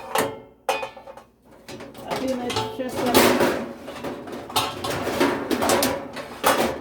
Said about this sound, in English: I'm just grabbing my cookie sheet to put this thing on